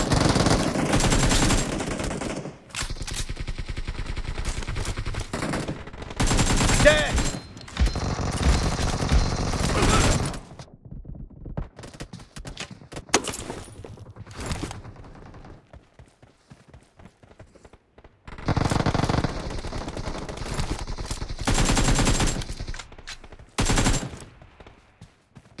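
Gunfire from the PUBG Mobile battle royale on the Santorini map comes in loud, dense automatic bursts separated by gaps of quieter single shots and game sounds.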